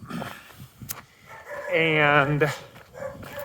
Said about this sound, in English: that's my dog who thinks that I'm a stranger